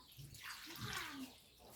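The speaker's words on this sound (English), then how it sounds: "Now we'll just pour the coconut milk." Coconut milk pours into a cooking pot with everything else already in it, a soft, steady liquid splash lasting under two seconds at low volume.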